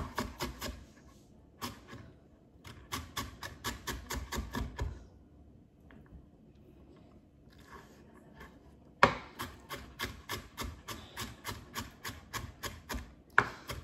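Onion being finely chopped for guacamole, a steady run of quick knife taps on a board in bursts with short pauses, close and crisp, no talk.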